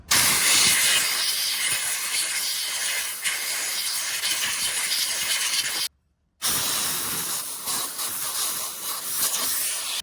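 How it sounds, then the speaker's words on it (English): Compressed air blasts into the CVT housing of a CFMOTO CForce ATV to clear out dust, a loud continuous hiss running close to the microphone with one brief break before resuming. "And again, some compressed air into all of that."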